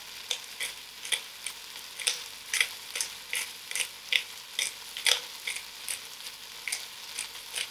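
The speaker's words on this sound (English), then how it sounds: "a generous grind of black pepper" A pepper mill grinds black pepper over onions cooking for soup. It gives a rhythmic series of short, gritty cranks, roughly one or two each second, close up over a faint background.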